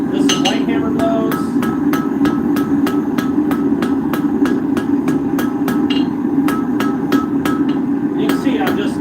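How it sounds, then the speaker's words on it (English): Light hammer taps on the end of a 3/8-inch round iron bar, a steady run of about twenty sharp metallic clinks at a brisk even rhythm over a constant background rumble. "This is light hammer blows."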